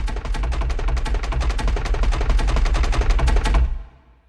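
A dense, driving percussion loop from the Heavyocity Damage Machina sample library plays with a crescendo effect. Rapid hits pound steadily for several seconds, then cut off and leave a short decaying tail.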